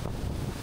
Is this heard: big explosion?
no